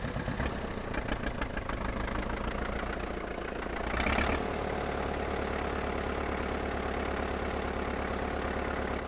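An old International Harvester TD6 diesel crawler engine running steadily after starting, a loud, close, rhythmic knocking idle with a brief throttle surge partway through before settling back.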